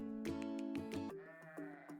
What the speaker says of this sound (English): S is for sheep.